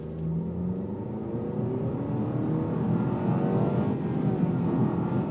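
A 2025 Nissan Kicks SR AWD with a CVT engine accelerates hard and steadily, its note climbing through close simulated shift steps, heard from inside the cabin with no talk.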